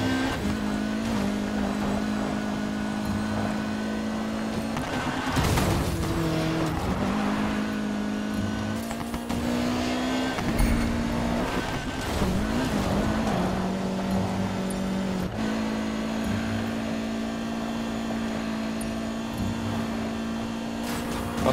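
Cars racing in Need for Speed Payback, with steady loud engine drone, revving shifts and bursts of acceleration, occasional tire squeal and cars passing, running continuously with no talk.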